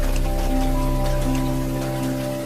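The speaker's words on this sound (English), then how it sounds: "The rain falls." Steady rain falls at a Victorian train station, a soft continuous patter spread evenly over a low constant hum, with no voices.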